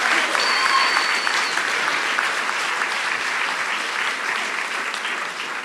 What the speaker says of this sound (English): Can we get one more huge round of applause for Never in the Rough,